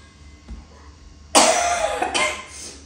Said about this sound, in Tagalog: Yung ubo ko, bumalik na naman